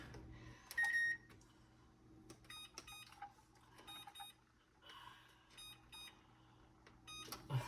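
Oven control panel giving a series of short electronic beeps while the temperature is set to 350, quiet and scattered among faint kitchen handling noises.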